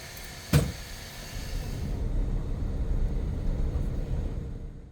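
Inside a limousine bus leaving Osaka airport, a low steady rumble of the engine and road fills the cabin, with one sharp knock near the start and no voices.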